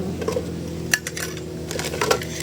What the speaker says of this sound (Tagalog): hugasan muna natin yung mga kaldero